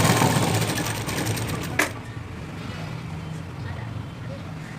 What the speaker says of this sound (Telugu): As it is top stitch చేసేయండి.